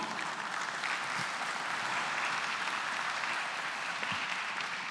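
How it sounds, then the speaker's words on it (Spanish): Steady, dense audience applause for two panelists at an open consultation meeting in Brazil, continuous and fairly loud throughout with no pauses or talk on top. "Así que un aplauso para ellos dos."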